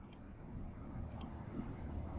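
A computer mouse clicks as an operator sets up a survey area in hydrographic echosounder software: two faint quick double clicks about a second apart over a quiet room hum.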